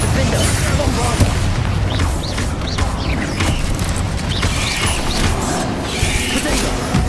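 Spell explosions, booms and crashing impacts from Hogwarts Legacy on PS5 fill a dense, continuous wall of game noise, with a voice shouting spell names over the steady clatter.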